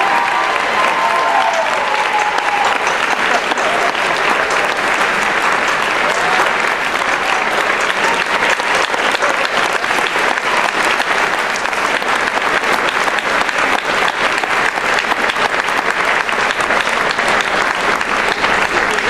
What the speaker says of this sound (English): let's give our administrators a round of applause for their support of youth